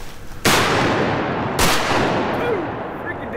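Two loud shotgun blasts about a second apart while duck hunting greenheads on an oxbow, each a sharp crack with a long rolling echo outdoors.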